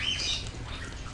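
Birds squawking in the video game Baldur's Gate II, a steady, fairly loud cluster of harsh calls lasting about a second with no talk over it.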